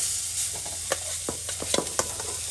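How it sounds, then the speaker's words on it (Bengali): Fish frying in a small amount of hot oil in a village kitchen: a steady broadband sizzle throughout, broken by several sharp spits and pops, close and moderately loud, with no talking. "এই যে তেল গরম হয়ে গেছে, এখন আমি মাছ ভাজা দেবো"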